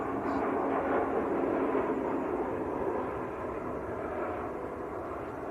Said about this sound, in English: Another blue. KLM A321.